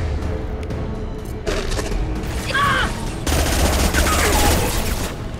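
Gunfire in the video game Mass Effect 2 Legendary Edition, with repeated loud bursts of shots and booms that come in clusters over several seconds, mixed with game effects and background action.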